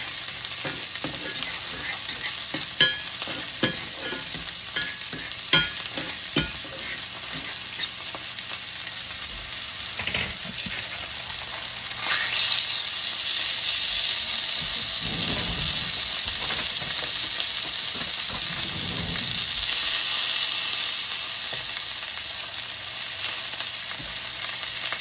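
Wild meat burgers made with pork fat frying in a pan, a continuous close sizzle and crackle with a few utensil taps, swelling louder midway, with no voices.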